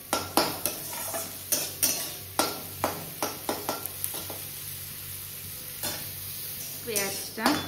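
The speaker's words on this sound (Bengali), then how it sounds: "পেঁয়াজটা ভালো মতো ভাজা হয়ে গেছে" Onion fries in a pan with a constant sizzle beneath repeated scraping strokes of a spatula or spoon stirring it, the clicks and scrapes coming in irregular bursts close by.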